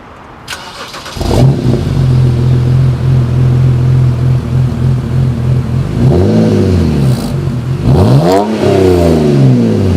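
A 2010 BMW 328i E90 with a muffler delete starts up loudly and settles into a steady, deep idle, then gives two sharp revs that rise and fall near the end, heard close and alone.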